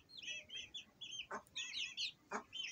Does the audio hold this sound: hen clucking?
yes